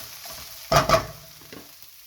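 Onions caramelizing in a frying pan, with two quick, close stirring scrapes in the middle over a faint, steady background sizzle; no voices.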